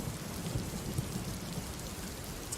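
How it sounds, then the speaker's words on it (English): Steady rain falls throughout, a dense even patter of drops on a surface, moderately loud with no talking. "It is raining."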